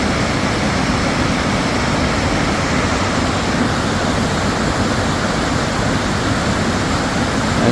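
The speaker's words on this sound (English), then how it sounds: "Don't you love the sound of that water?" Water rushes steadily below an overlook on an electric bike ride, a dense, even roar like a waterfall or fast stream that continues unbroken throughout, with no voices.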